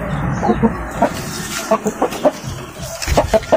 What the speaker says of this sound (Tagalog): yung breed natin dito ay yung native na hen, tapos yung Shamo natin na rooster